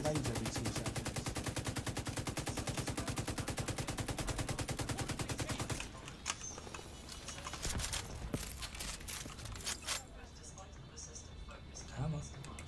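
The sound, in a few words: grenades launched repeatedly by the Warhound, from a video game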